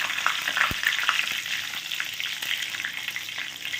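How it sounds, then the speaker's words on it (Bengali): Whole cumin, cinnamon, cardamom, cloves, a dried red chilli and bay leaf frying in hot oil, giving a close, continuous crackling sizzle with sharp pops and one brief knock of a utensil early on. "এই তেলের মধ্যে কি করছি, এই ফোড়নগুলো দিয়ে দেবো"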